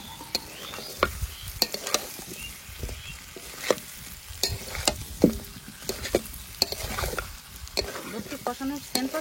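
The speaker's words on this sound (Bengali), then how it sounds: "আলু দিয়ে 2-3 মিনিট কষিয়ে নিয়েছি" Meat and potatoes stir-fried in oil, a continuous sizzle broken by sharp scrapes and taps of a spatula against the pan, close and steady throughout.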